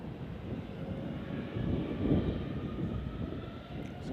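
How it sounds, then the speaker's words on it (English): An Airbus A321 jet airliner departing San Francisco International Airport on a flight to Chicago, its engines giving a steady, moderately distant broadband roar that swells slightly midway and holds without any talk. "this is the Airbus A321 heading over to Chicago."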